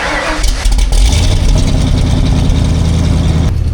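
An old Ford truck engine cranks and catches, then revs up and holds a loud, rough running note close by, with no talking.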